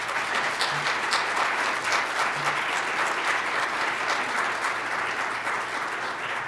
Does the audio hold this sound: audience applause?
yes